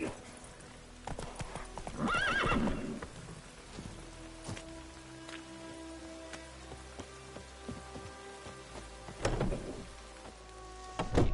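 Horse hooves clip-clopping at a gallop in The Witcher 3, rhythmic and steady under rain, with brief snorts or a whinny and a rider's voice in bursts.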